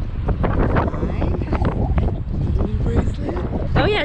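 Strong gusty wind buffets the microphone outdoors, a loud continuous low rumble that stays up throughout, with someone talking over it.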